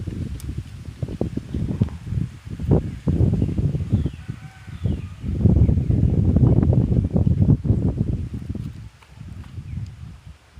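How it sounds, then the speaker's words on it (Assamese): Strong wind gusts across an open village with houses and a cleared building plot, making steady buffeting rumble and rustle that swells and eases over several seconds, close to the microphone. "বহুত বতাহ দি আছে"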